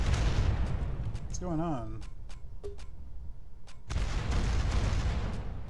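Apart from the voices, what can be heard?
artillery and gunfire shooting in video game Rise of Nations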